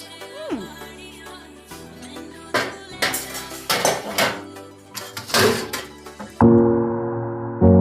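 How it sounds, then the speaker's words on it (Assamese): Dirty dishes are washed by hand: pots, plates and cutlery clank and clatter in irregular bursts, close and fairly loud, ending in a sustained ringing tone from a struck vessel. "ইমান গেলা বাচন ধুই ফেলে মোৰ অৱস্থা বেয়া হৈ গৈছে"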